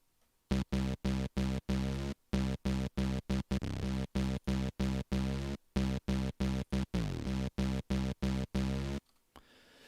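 Short, punchy synthesizer chords repeat in a steady rhythmic pattern, loud and close, with brief gaps between stabs and a few pitch sweeps.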